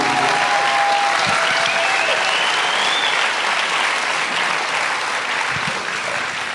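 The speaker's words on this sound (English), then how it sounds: "Let's give them another round of applause." Sustained applause from a large graduation audience at a city high school ceremony, dense and steady throughout, with a brief whistle early on and no speech over it.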